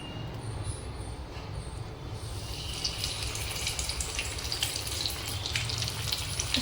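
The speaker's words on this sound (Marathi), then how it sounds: "आता आपण हे फ्राय करणार आहे." Stuffed bombil frying in a pan gives a continuous, fairly loud hiss and crackle that swells slightly over time, alone with no talking.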